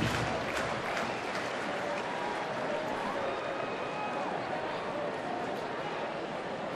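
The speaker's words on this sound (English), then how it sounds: "Another big crowd here at the ballpark as well." A big crowd murmurs at a Tigers home game in a Detroit baseball ballpark, a steady, dense crowd roar with scattered clapping running throughout under a commentator's talk.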